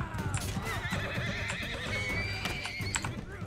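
Horses neighing and whinnying amid galloping hooves in a battle in the video game Mount & Blade II: Bannerlord, several loud cries overlapping above steady hoofbeats, with little talk.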